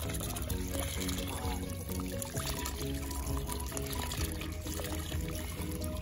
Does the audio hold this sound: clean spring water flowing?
yes